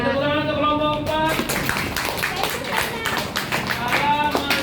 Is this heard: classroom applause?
yes